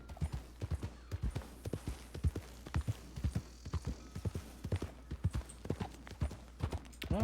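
Many horses' hooves clip-clop on the ground in a Red Dead roleplay game, with a steady, overlapping trotting rhythm that is close and clear from start to finish and carries no talk over it.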